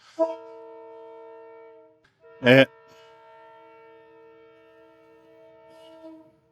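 A train horn sounds a long, steady chord, briefly broken by a burst of louder noise and then resuming before it trails off. A voice speaks briefly at the start.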